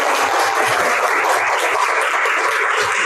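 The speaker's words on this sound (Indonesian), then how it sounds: "Tepuk tangan." A classroom group applauds, a dense wash of clapping hands that fills the short moment evenly and loudly, with no voices on top.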